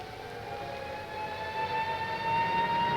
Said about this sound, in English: I'll just let you listen to the traffic and the sound of the siren for a moment.